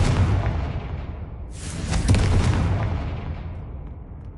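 A Confringo blasting spell explodes in a Harry Potter game, a deep booming blast followed by a second sharp burst and a long rumbling decay that fades out.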